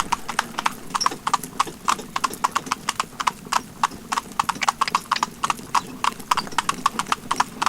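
Driving ponies pulling carriages clip-clop on a hard surface in a brisk, steady rhythm of closely spaced, sharp hoof strikes heard nearby, with occasional faint voices in the background.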